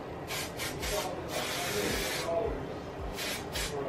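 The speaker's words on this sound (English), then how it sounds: "And do a spray from far away." Several short bursts of hairspray hiss in quick succession, close and steady, with brief pauses between the sprays.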